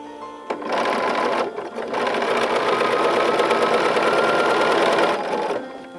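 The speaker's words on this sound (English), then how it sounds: "I'm going to show you chain stitching, because that actually comes first." A sewing machine chain-stitches pieces of fabric one after another, a loud rapid mechanical chatter running for several seconds with a short pause near the start.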